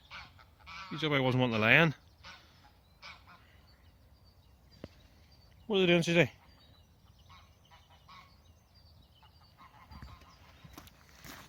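Geese at a carp fishery let out two loud bursts of harsh honking, a few seconds apart, nearby, with a person speaking quietly and faint ambient outdoor noise in between.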